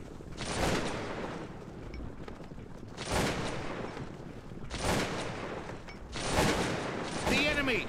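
Massed musket volleys in the video game Cossacks 2: Battle for Europe, four rolling bursts of crackling gunfire a few seconds apart, each swelling and fading into a noisy background, fairly faint overall.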